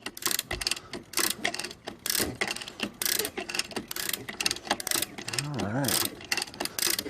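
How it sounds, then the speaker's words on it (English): A ratchet wrench clicks in quick, close bursts while an engine is pulled from a boat during a transom and floor rebuild, with clanks and rustling between strokes and a brief tonal whine near the end. "let's give it a few more clicks"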